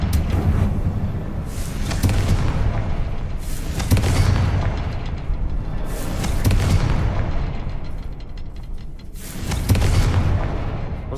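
Fiery explosion from a Confringo spell in a video game, a series of deep booming blasts roughly every two seconds over a rumbling low background, loud and close.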